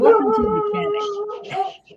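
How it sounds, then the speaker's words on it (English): Dog howling in a long drawn-out wail close by, rising briefly near the end, with a person talking over it. "Sorry about the dog."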